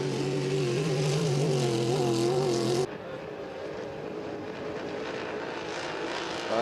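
An H350 racing hydroplane roars past during time trials at Valleyfield, a loud high engine whine that cuts off sharply partway and gives way to a lower, steady rumble.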